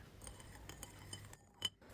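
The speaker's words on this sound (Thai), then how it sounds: "คนให้ส่วนผสมละลายเข้ากันดีค่ะ" A spoon stirs a soy sauce and water mixture in a bowl for steamed grouper, giving a run of light metallic clinks and scrapes at close range, with one brighter chime near the end.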